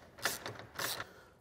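A ratchet wrench tightens bolts during a winch install on a Polaris RZR XP 1000, two short bursts of quick ratcheting clicks, close and fairly quiet.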